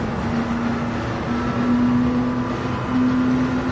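A Peugeot 908 HDi race car drives out of a corner at Daytona in a racing video game. Its engine gives a steady, loud droning hum with only a slight rise in pitch and no other sounds.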